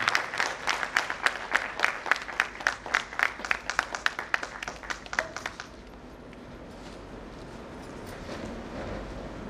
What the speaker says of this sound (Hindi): प्लीज इनके लिए एक बार तालियां बजा दीजिए, वाकई में तालियों के पात्र हैं।